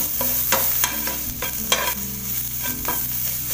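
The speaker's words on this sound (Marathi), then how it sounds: "चांगली अशी पुन्हा एकदा फ्राय करून घ्यायची" Spiced vegetables frying in a pan with a little salt, a steady loud sizzle broken by repeated scraping strokes of a spoon stirring against the metal, with no talking.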